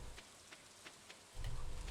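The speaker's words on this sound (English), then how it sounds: "It's raining." Rain in the Stardew Valley farming game, a soft steady patter with faint drop ticks that swells into a louder low rumble near the end, no talking.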